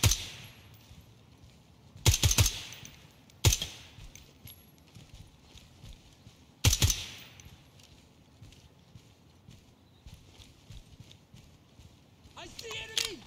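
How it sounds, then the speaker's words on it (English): Sporadic gunshots in the tactical shooter Ground Branch during a raid on an abandoned school, three or four sharp loud bursts spaced seconds apart with quieter ambience and faint shouting between them. "I see enemy! I'm under fire!"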